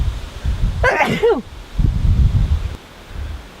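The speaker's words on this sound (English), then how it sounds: "Spring sneeze in the autumn." A single sharp sneeze close to the microphone in a garden in autumn, followed by rustling and wind buffeting outdoors.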